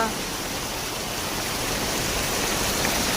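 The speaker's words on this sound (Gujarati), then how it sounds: "જબરજસ્ત વરસાદ ચાલુ થઈ ગયો છે અચાનક" Heavy rain pours down in a dense, continuous hiss, loud and steady from start to finish with no pauses.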